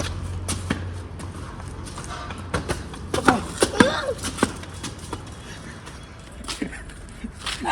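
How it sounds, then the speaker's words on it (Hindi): Outdoors, dogs yelp and whimper in short, scattered bursts as one dog frightens another, with faint voices and shuffling noise in the background. "एक डॉगी दूसरे डॉगी को डरा रहा है।"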